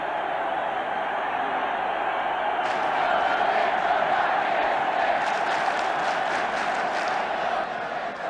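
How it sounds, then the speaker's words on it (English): A large football crowd at a 1976 Chelsea v Crystal Palace match roars and shouts continuously on the terraces amid fighting, a dense, steady wall of voices with some louder yells. "And still the fighting going on the terraces."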